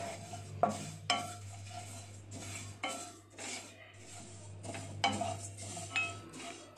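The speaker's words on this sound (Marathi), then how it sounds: "आता सर्वात पहिल्यांदा आपल्याला खसखस आणि तीळ आहेत ना ते भाजून घ्यायचं आहे." Sesame seeds dry-roasting in a pan over low gas, stirred with a utensil that scrapes and clinks against the metal in irregular taps, quiet and close with a faint hum beneath.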